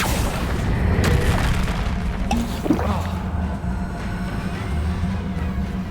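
A Bombarda spell explosion from the video game Hogwarts Legacy: a deep, loud boom with a heavy low rumble that rolls on, followed by a brief crackling burst over a dense, continuous battle din.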